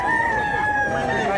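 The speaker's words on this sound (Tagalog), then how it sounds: "Gandang manok." A rooster at a chicken sale in the Philippines crows once, drawn out and fairly close, over a noisy crowded background.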